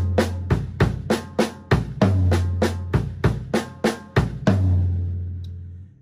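A drum kit plays a linear phrase of inverted hand doubles broken up by bass drum kicks, giving crisp, evenly spaced hits with booming low kick notes. It sounds close and clear with no talking, and the last kick rings out at the end.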